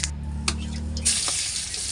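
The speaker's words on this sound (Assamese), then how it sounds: "এয়া কেৰাহীখন বহাই দি তাতে গোটা জিৰা," Whole cumin seeds drop into hot oil in a wok and break into a steady, crackling sizzle after a quieter hum, moderately loud and close, with no talking over it.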